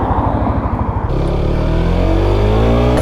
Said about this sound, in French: je me balade toute seule à moto